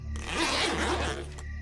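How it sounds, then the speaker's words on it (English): A tent zipper zipped down in one smooth, close pull lasting just over a second, with a short final tug at the end. "I heard the sound of the zipper to the tent zipping down."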